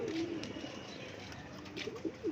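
Racing pigeon arriving at its loft after a race lap, with soft repeated cooing close by and light fluttering and background noise throughout.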